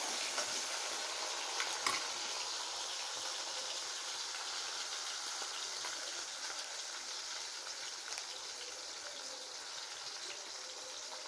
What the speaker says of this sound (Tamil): கொஞ்சம் நல்லா வதக்கி வச்சுக்கோங்க.